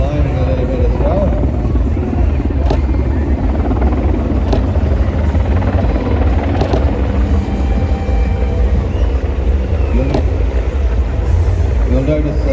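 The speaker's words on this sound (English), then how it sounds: "Watch as he pitches the aircraft up and does some hover work, as they call it." A Royal Navy Merlin Mk2 anti-submarine helicopter hovers and climbs at an air show, its loud, steady rotor and turbine roar filling the air, with someone speaking over it.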